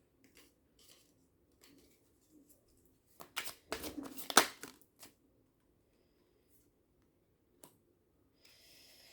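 Playing cards are handled and shuffled up close, a burst of riffling and flicking in the middle framed by faint taps and rustles.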